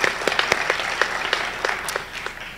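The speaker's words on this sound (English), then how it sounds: "Let's give them a round of applause." A round of applause at a sports hall of fame ceremony, a brief steady patter of many hands clapping at moderate distance, mostly on its own.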